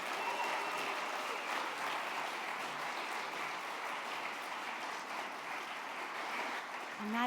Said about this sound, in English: let's give her a big round of applause and congratulate Leah Medrano.